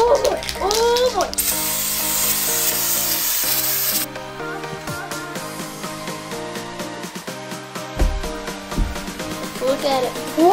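A steady hiss of spray paint onto hydro-dip transfer film for a bike bursts out for a few seconds over background music, then cuts off, followed by clicks and rattles.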